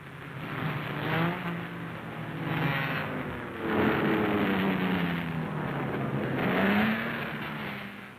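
Vintage Yamaha motorcycles racing in the 1958 Catalina Grand Prix on a dusty course, with engines droning and swelling steadily in waves as bikes pass, fairly loud with no voices.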